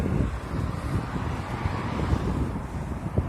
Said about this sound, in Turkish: Rüzgar da başladı.